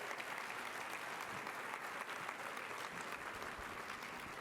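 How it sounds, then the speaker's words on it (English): An audience at a charity luncheon gives a round of applause, a steady, even wash of many hands clapping, heard at a distance and fairly faint, with no voices standing out. "Thanks so much, and a round of applause for Dee and all of her wonderful leadership"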